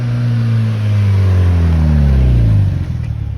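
A Mazda MX-5 NBFL pulls up close with its engine revving loudly, the drone falling in pitch as it arrives, then dropping off sharply at the end.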